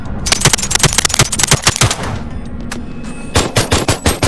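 Bursts of rapid automatic gunfire in the VR game Boneworks multiplayer mod, a loud rattling volley, a short lull with scattered shots, then another quick burst.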